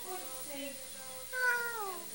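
A small child imitates a cat, voicing a drawn-out meow followed by a second, higher, rising-and-falling meow, close and clear in a quiet room.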